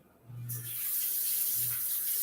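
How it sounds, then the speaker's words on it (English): Water runs steadily from a kitchen tap for handwashing, a bright hissing splash that starts after a brief low hum and continues close and unbroken. "I'm gonna wash my hands real fast."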